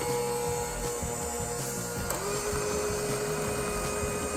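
Electric mixer whirring steadily through a batch of slime made from white and clear glue, a continuous motor drone with a slight pitch shift midway, fairly loud and alone.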